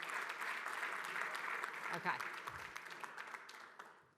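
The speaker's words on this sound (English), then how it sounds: "could we also give a round of applause for the amazing startups that presented?" An audience applauds presenting startups at a pitch event, with steady dense clapping throughout and a brief spoken word near the end.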